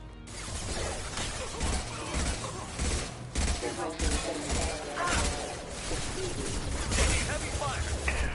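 Dense, sustained gunfire from a Mass Effect firefight rattles on loud and close for the full stretch, with overlapping bursts, crashes and impacts. Shouted voices are buried in the barrage.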